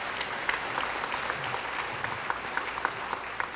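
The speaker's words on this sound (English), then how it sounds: "let's give them another round of applause" An audience at an early childhood center event applauds steadily for a few seconds, a dense patter of clapping at moderate distance with no voices over it.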